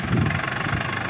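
The engine of an 855 tractor runs close by, a steady, rough, knocking diesel chug heard alone for about a second.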